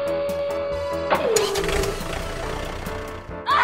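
A loud truck engine in a cartoon runs as a steady, droning rumble with a whirring tone, surges rougher and louder partway through, then keeps chugging with a sharp rise at the very end.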